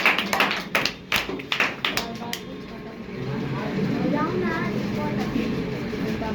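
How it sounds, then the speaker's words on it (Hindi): A scattered round of audience applause at a school prize distribution for junior classes, greeting a second-place trophy winner; a brief burst of claps fades after about two seconds into steady crowd murmur and voices. "इसके लिए शानदार सा तालियां"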